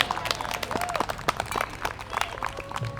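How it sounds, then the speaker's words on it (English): People gathered outdoors at an Indigenous Day celebration in Bartram's Garden clap their hands, scattered claps in an irregular rhythm, with voices talking underneath. "You're gonna give a hand clap?"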